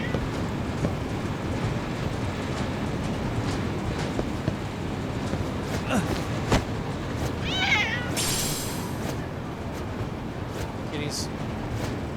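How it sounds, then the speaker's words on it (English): Cats meow in the video game Lost Judgment, a short high mewing burst around the middle over a steady game ambience with background noise. "Kitties."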